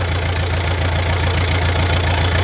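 A diesel engine on a tractor or backhoe, just started and running steadily: a close, continuous low chugging idle with a fast, even knock, with no voices.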